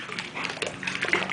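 A dog splashing and sloshing through water close by, a short burst of busy broadband wet movement with a few sharper splashes toward the end.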